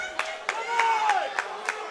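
A crowd at a powerlifting nationals meet claps in a steady rhythm, about three sharp claps a second, with a sustained whistle-like tone drifting through the middle.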